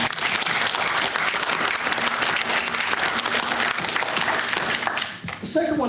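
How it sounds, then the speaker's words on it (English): Steady, dense clapping fills a regular city council meeting for about six seconds, close and loud throughout, easing slightly near the end as a voice begins. "let's give a round of applause"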